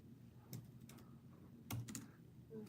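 Fingers tap on a computer keyboard in quick irregular bursts, close and quiet, typing a zip code into a website, with no talking.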